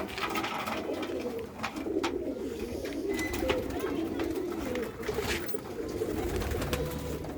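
Several pigeons coo steadily on a house rooftop, a dense overlapping murmur of low throaty calls running throughout at moderate loudness, with faint background noise.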